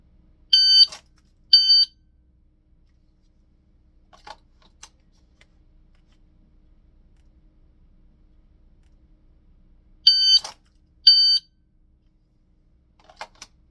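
A shot timer sounds during dry-fire draw practice: two pairs of sharp, high electronic beeps about nine seconds apart, with faint clicks between them and no talk.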